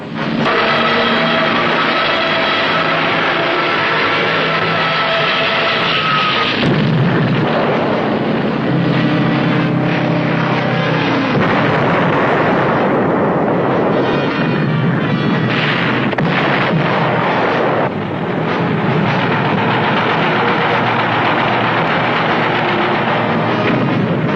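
Sustained, loud roaring blasts and rumbling booms of the Pearl Harbor surprise attack of December 1941, with dense overlapping explosions and gunfire churning continuously throughout.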